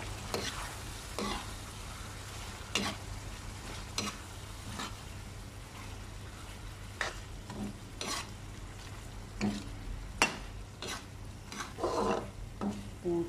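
Coconut milk mixture stirred in a cooking pan, a spoon scraping and tapping the pan in repeated strokes over a soft, steady sizzle, close by with no talking.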